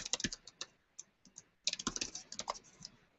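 Quick typing on a computer keyboard: two bursts of rapid, close, quiet key clicks separated by a brief pause.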